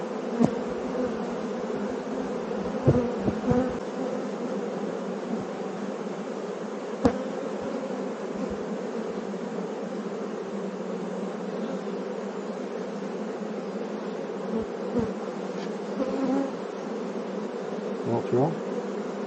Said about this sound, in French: tu as toutes les abeilles qui sont attirées par les phéromones